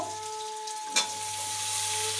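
Potatoes frying with cumin seeds and bay leaf in a pan give a steady close sizzle, broken by a brief louder burst as chopped tomato goes in, then the frying continues evenly.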